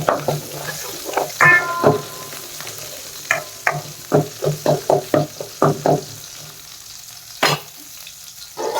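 Small onions and mustard seeds sizzle and crackle in oil in a pan for a brinjal curry, with rapid popping bursts and occasional clinks of a utensil against the pan, close and fairly loud.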